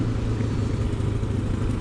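A Honda XLR125R single-cylinder trail motorcycle is ridden on an off-road trail, its small engine humming in a steady low drone with rough, continuous texture and no speech.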